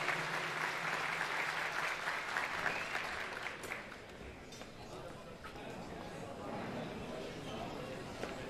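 Audience at an evening gala clapping to welcome a media representative onto the stage, dense close applause that thins slightly midway and continues to the end.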